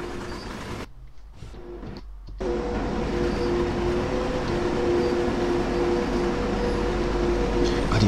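Electric train running in the Train Sim World 2020 Rhein-Ruhr Osten game on the Wuppertal–Hagen line, a steady loud rolling rumble with a tonal motor whine that dips briefly near the start, then holds continuous and even.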